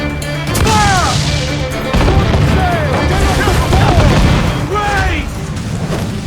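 Ship cannons boom again and again in Assassin's Creed IV: Black Flag during a naval battle, loud repeated blasts and crashes mixed with shouting crew voices and battle noise.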